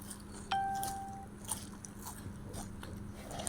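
Crunchy bites and chewing of jhalmuri, a spicy puffed rice snack mixed with onion, green chili, mustard oil and chanachur, eaten outdoors before evening. A sharp crunch opens it, followed by softer chewing over a steady low hum.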